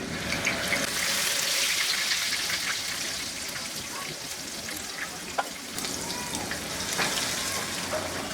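Onion paste frying in about a quarter cup of oil in a wok, a steady loud sizzle with bursts of stirring, a few faint clicks, and no talk.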